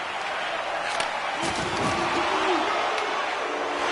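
Home crowd at a basketball game cheering loudly near the end, a dense sustained roar of voices filling the arena throughout with some sharp thumps over it.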